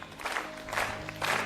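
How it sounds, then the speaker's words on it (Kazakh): Guests at a family celebration applaud in honour of an elder named Nurlybai, quick bursts of clapping in three waves over background music, close and lively. "Шапалақ бар ма? Нұрлыбай атамның құрметлеріне."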